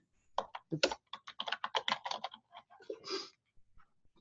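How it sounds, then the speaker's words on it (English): Quick bursts of clicky keystrokes on a computer keyboard, close and distinct, with irregular rhythm and short pauses between runs. "So I'm just going to type in,"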